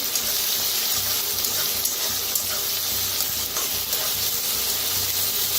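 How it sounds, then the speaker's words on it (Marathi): Onion, curry leaves, green chili and garlic fry in a hot pan, giving a steady, even sizzle and hiss that runs unbroken throughout, close and fairly loud. "छान असं भाजून घेऊया कांदा आणि कढीपत्ता, मिरची, लसूण।"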